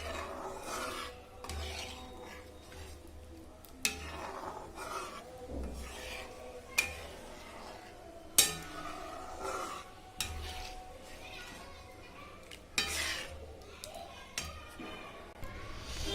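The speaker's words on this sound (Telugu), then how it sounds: "మీడియం ఫ్లేమ్లో పెట్టి ఒక్కసారి గరిటెతోటి అదంతా కూడా ఈ శనగపిండికి అంటుకునేలాగా కలుపుకోవాలి" A ladle stirs a gram flour mixture in a pan over a medium flame for Bombay chutney, giving faint scraping and rubbing strokes with occasional soft clinks against the metal.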